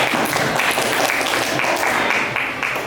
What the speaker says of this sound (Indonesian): beri tepuk tangan untuk calon ketua OSIS nomor urut 1